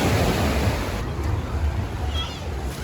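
Ocean surf rolls onto a busy Boracay beach at sunset, a steady low rumbling wash mixed with wind buffeting the microphone.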